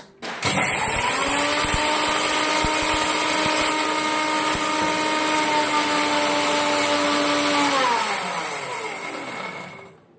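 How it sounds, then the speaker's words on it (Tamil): Electric mixer grinder running on black pepper and cumin, a loud steady motor whine that starts abruptly, holds for about seven seconds and winds down as it switches off, with no talk. "அதனால ஃபர்ஸ்ட் இந்த மிளகு சீரகத்தை வந்து அரைச்சிக்கோங்க"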